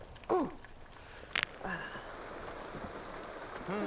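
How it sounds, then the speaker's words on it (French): Steady rain patter in The Sims 2 video game fills the background, with a few brief squeaks and clicks scattered over it. "On dirait qu'il pleut dedans."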